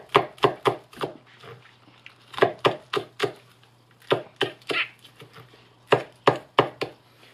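A knife chops shallots on a cutting board in quick bursts of sharp, close taps, several clusters of three to five strokes separated by short pauses.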